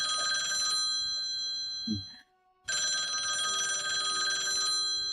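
Telephone bell ringing in a room, a bright sustained electronic ring in two bursts separated by a brief silent gap, clear and moderately loud with a faint thump between.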